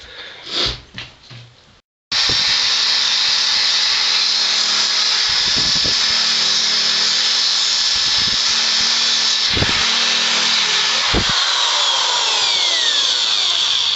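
A power drill fitted with a 3M paint remover attachment strips paint from a trunk, whining steadily and loudly for over ten seconds after a brief start, with a few short dips and bumps as it works the surface.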